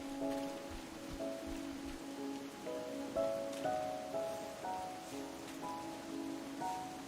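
Rain falls steadily in the Battletech video game, a dense patter of drops on surfaces under soft tonal game music, with no talk.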